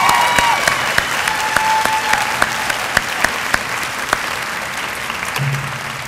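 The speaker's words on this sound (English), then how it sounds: "You just applauded right where you should have." Steady, loud applause from an audience thanking faculty and staff at a nurse candlelighting ceremony, sustained clapping filling the hall with sharp individual claps standing out throughout.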